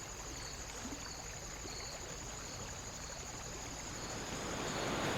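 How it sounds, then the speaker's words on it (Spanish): A river flows on a road trip in Costa Rica, heard as a quiet, steady broadband rush of water that holds constant and rises slightly toward the end. "nos despertamos con el sonido del río"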